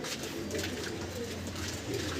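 Soft, low pigeon cooing repeats under a steady background hum, quiet and somewhat distant.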